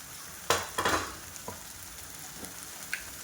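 Home spice masala (black masala, chili powder, turmeric, salt) roasting in a pan for soya chunk curry, soft sizzling with a few scraping stirs and light clinks of a spoon against the pan, quiet and close.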